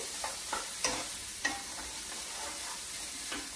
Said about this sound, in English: The vegetables are cooking, the highest heat.